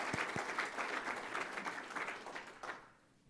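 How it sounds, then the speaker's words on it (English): An audience at a business forum on the future of work applauds the panel and host, a sustained patter of many hands that fades out near the end, fairly quiet and distant. "Let's give them a round of applause."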